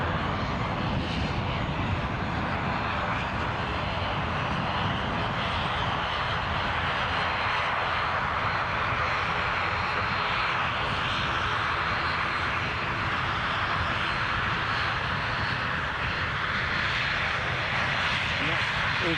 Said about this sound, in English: Anyway, a Dassault Falcon.